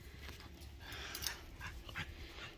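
Dog panting and whimpering softly in a backyard dog run, short breathy bursts and faint yips, quiet and close, with no talking over it.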